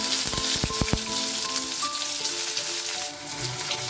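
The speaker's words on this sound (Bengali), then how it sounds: "পেঁয়াজটা লাল করে ভেজে দিচ্ছি" Chopped onion frying in mustard oil in a wok with bay leaf and dried red chilli, a dense steady sizzle with a few sharp clanks of a utensil near the start.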